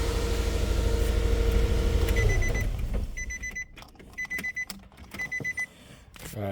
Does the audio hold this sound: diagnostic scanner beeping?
yes